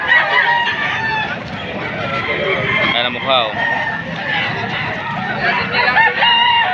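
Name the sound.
roosters crowing at a chicken market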